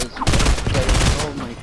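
A loud, close burst of rapid automatic gunfire sprays for about a second in the Fortnite battle royale game, then trails off into fainter crackle.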